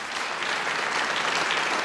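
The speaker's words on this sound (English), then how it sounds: "Give her a big round of applause." An audience at Stormont claps in a brief, dense burst of applause that holds steady throughout.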